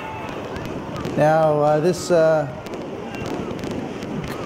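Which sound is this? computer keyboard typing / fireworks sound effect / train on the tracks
fireworks sound effect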